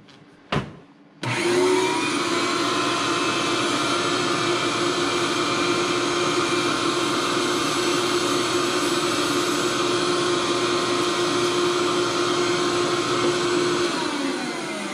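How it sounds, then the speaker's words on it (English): A vacuum cleaner sucks dirt out of a Konica Minolta C6500 printer, starting after a brief click and then running as a loud, steady close-up roar for the rest of the span, slightly fading near the end. "Let's just vacuum it out quick."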